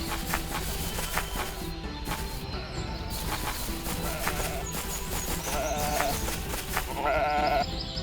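Sheep in a video game about fighting animals with weapons, bleating in short, clear cries over a steady wash of game sound and light footsteps.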